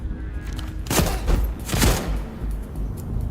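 A few rapid bursts of gunfire from the video game Zero Parades: For Dead Spies crack out in quick succession, loud and close, over a low rumbling background.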